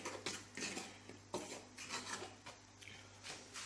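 Curried chicken stirred in a pot, yard style, with a spoon scraping and knocking against the pot in irregular strokes, close up and fairly quiet over a low steady hum, without any talking.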